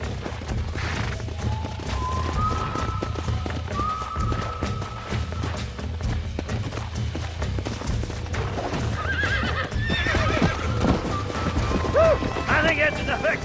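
Horses gallop with a steady drumming of hooves while loud neighs and whinnies ring out over them, in audio from the video game Red Dead Redemption.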